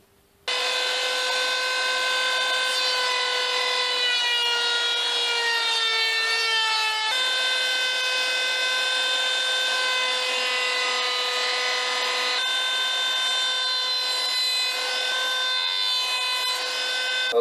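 A router with a quarter-inch round-over bit cuts along a wooden edge, giving a loud, steady, high tonal whine. It starts abruptly and runs continuously for about seventeen seconds, with a slight momentary shift in pitch partway through.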